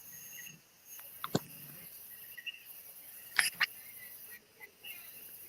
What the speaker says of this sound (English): Those are real official frog sounds